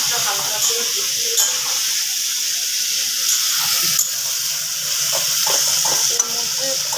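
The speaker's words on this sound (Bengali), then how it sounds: "দেখি এইদিকে আবার রান্নার পেঁয়াজটা হালকা করে বসিয়ে" Onions sizzling in a hot frying pan, a continuous close hiss and crackle with occasional scraping stirs, loud and unbroken throughout.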